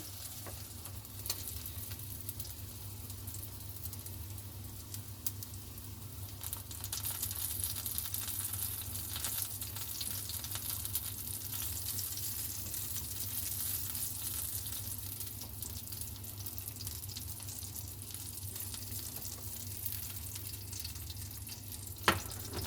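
A ghost pepper burger patty fries in a pan with a steady, close sizzle and crackle that runs without a break, plus a few light clicks of stirring or scraping near the end.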